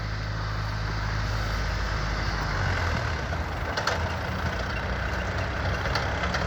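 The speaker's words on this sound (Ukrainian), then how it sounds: "Нічний тест-драйв. Людина приїхала вибирати. Темненько, ловел 454. Катається, перепровіряє." A Lovol Foton 454 tractor with cab and compressor runs in snow at night, its diesel engine giving a steady low rumble that eases slightly midway, close and continuous.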